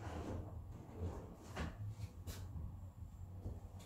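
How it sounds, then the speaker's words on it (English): Soft-close drawers on a custom-built wardrobe in a flat slide shut with muffled, cushioned thumps, followed by a quiet click, close by against low room hum. "And they've all got soft close, so they close themselves."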